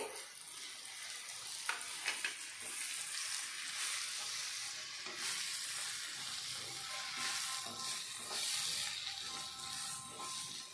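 Spice powder stirred into a prawn curry in a pan, with a continuous soft sizzle and repeated scraping strokes of the spoon, fairly quiet and close.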